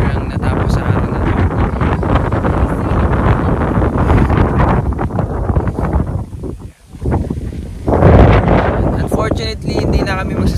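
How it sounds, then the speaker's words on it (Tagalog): Cold evening wind buffets the microphone at a mountain campsite on Mt. Batulao, a loud, continuous rumble that briefly drops before gusting back, with voices talking underneath. "Ang lamig na ng hangin, guys"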